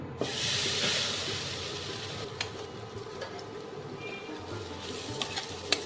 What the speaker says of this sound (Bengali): যে ঘিটার মধ্যে আমি বড়াগুলো ভেজে নিয়েছি, এই ঘিয়ের মধ্যেই আমি এই গুঁড়োটাকেও ভেজে নেব।